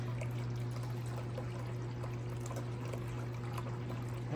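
A thin, steady trickle of water running from a tap, faint and continuous, with a constant low hum underneath.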